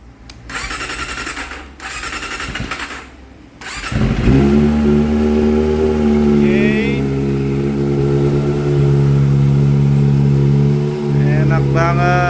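A Kawasaki Ninja ZX-25R motorcycle with an original Japan Yoshimura exhaust starts after a few blips, then holds a loud, steady high-pitched rev close by, rising slightly near the end, with no voices.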